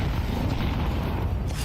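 Grenade blasts in the Counter-Strike 2 video game, a loud, continuous low rumbling boom filling the whole moment without voices.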